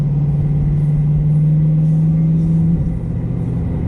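A C8 Corvette with a Borla ATAK exhaust, valves fully open, cruising in normal driving: a steady low droning exhaust note that holds its pitch, then dips and softens near the end, no talk.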